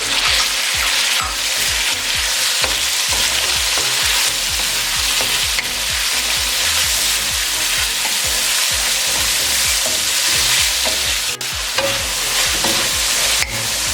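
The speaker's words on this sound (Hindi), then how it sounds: "अब ये डाल देंगे और इसका कलर चेंज होने तक इसे पकाएंगे।" Lengthwise-cut chicken strips frying in a pan for hakka noodles, a loud continuous sizzle with repeated scraping and stirring knocks throughout, no talking.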